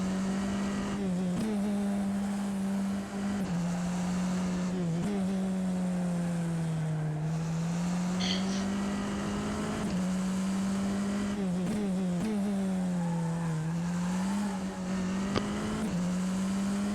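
A Tatuus FT-60 race car engine in the rFactor 2 racing game holds a steady, loud, buzzing drone, with the pitch rising and dipping through gear changes and throttle lifts. It carries on alone without a break.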